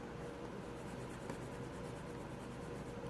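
A marker or pen writes on a board during a Java programming lesson, a faint scratching and tapping of strokes under a constant hiss of room noise, with no speech.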